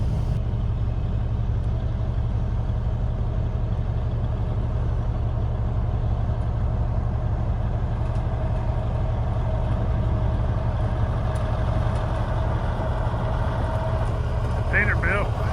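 A Peterbilt truck idles with a steady low diesel rumble close by on an outdoor work site where aged-leaf compost is mixed, the engine droning evenly throughout before pulling away.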